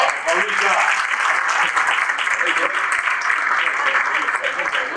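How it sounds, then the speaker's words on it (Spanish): An audience at a business conference closing session applauds in a dense, sustained wash of clapping that fills the room, with voices faintly audible beneath it. "le vamos a dar un aplauso a Paula"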